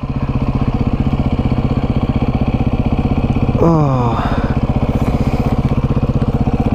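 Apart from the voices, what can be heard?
motorcycle engine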